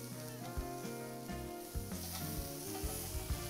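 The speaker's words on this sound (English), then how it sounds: "So grab a few of the shrimp and flip them over, like so." Shrimp skewers sizzle softly on a hot grill just after being turned, a low, steady frying crackle with a few faint knocks.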